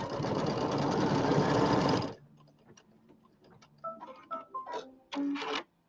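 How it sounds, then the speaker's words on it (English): A sewing machine stitches pieced quilt blocks of polka dot fabric together for a birdhouse square, running loud and steady for about two seconds before stopping, followed by faint scattered clicks and handling sounds. "along that line where I sew those 2 together"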